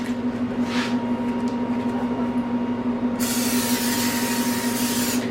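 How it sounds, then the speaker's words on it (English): Vegetable cooking spray hisses from a can onto seasoned BBQ ribs in a bright, steady burst that starts partway through, over a constant background hum. "A little vegetable spray on there kind of helps keep it from falling off."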